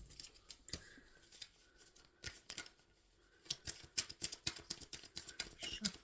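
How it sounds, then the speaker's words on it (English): Tarot cards being shuffled, a quiet run of soft papery riffles and flicks in irregular bursts, close and faint, growing busier toward the end with no talk. "Shuffling for messages for Cancer."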